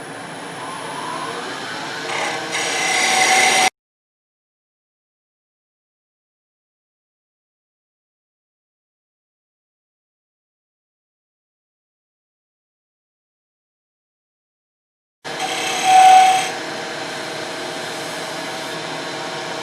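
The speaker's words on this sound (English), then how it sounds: "So we're going to do that with a bowl gouge" Wood lathe spinning a gavel blank as a bowl gouge cuts it, a steady whirring hiss with rough cutting noise, broken by a long silent gap before the cutting resumes loud and close.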